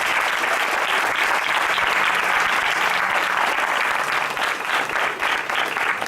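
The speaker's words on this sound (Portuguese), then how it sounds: "dá uma salva de palmas bem forte para Jesus" A church congregation claps loudly and steadily at an evangelical service, dense sustained applause filling the whole stretch without pause.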